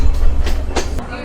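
A third-class carriage on a Sri Lankan mountain train rattles along in a loud, close rumble, with a few sharp clacks of the wheels over rail joints in quick succession.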